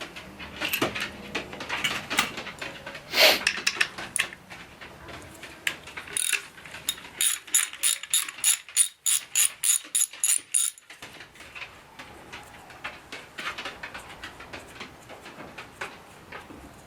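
Ratchet loosening bolts on a Yamaha XS650 engine during a teardown, close rapid clicking in irregular bursts with short pauses, a run of quick strokes in the middle.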